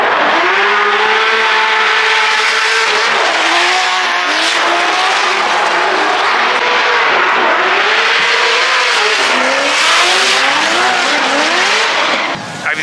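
Drift cars at a Formula Drift event scream their tires and rev their engines continuously, loud and close, with wavering engine pitch layered over the constant squeal, briefly dipping at the end.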